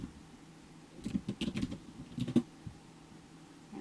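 Quiet typing on a computer keyboard while entering a router hostname: a short burst of soft key clicks, then a pause and a second brief flurry, close and alone.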